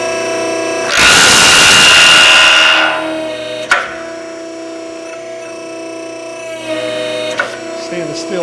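A tube expander works a stainless steel tube, giving a loud, harsh grinding burst lasting about two seconds, followed by quieter ringing metallic clanks and taps.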